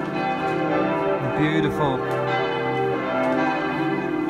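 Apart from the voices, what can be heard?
church bells ringing in Freiburg im Breisgau, Germany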